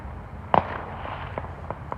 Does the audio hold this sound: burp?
no